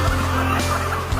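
Hens at a commercial layer poultry farm with a 10,000-bird unit, a dense close chorus of clucking and squawking filling a brief moment with no talk.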